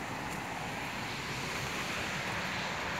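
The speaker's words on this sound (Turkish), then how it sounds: "Dere akıyor buradan." A stream flows past a greenhouse garden in Davultepe, Mersin, as a steady, dense broadband rush of water with wind noise on the microphone and no voices.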